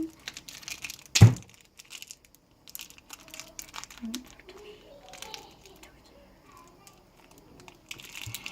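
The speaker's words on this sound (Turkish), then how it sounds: "Evet hamurumuzu açıyoruz." A play dough package is opened by hand, one sharp crinkling tear of plastic followed by fainter rustling and crackling, with soft speech in between.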